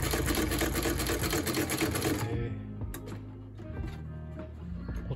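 A vintage early-1900s sewing machine marked Paris, in a denim repair workshop, runs in a rapid, loud rattling stitch for about two seconds, then stops, leaving scattered light mechanical clicks.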